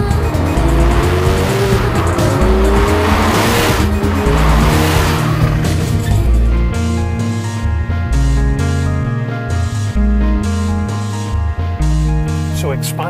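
A Porsche 911 Carrera 4 squeals its tires loudly on a plastic resin hill simulating sheet ice at the Porsche Experience Centre, the screech and engine revving together before giving way to stepped engine notes as it accelerates.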